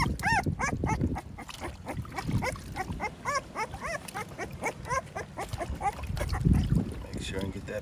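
Puppies whimper while being washed outdoors at a home kennel, giving repeated thin, high, wavering cries in quick bursts, fairly close and steady throughout, with low rustling and handling noise underneath.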